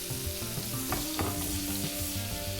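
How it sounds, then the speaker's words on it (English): Catfish sautéing in a pan gives a dense, continuous sizzle and crackle, close and steady throughout, with a low background tone underneath. "You hear it sizzling?"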